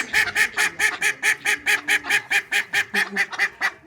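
A rapid, steady series of nasal quacking honks from ducks, about four calls per second, loud and close, with no talking.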